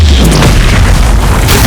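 A spell cast in a Hogwarts Legacy battle against a Quagmire Troll lands as a loud, deep booming burst, thick low rumble sustained through the short moment amid busy combat effects.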